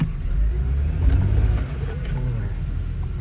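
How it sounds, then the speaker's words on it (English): A Jaguar car from around 2005 with its check engine light on and a stored transmission error runs steadily, a low engine drone with a slight rise in revs partway through. "I'm sure Herman don't mind me taking the Jag for a spin."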